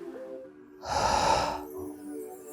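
A single forceful breath pushed onto a motorcycle helmet visor fitted with a Pinlock anti-fog insert, one short close-up exhale lasting under a second, with quiet before and after.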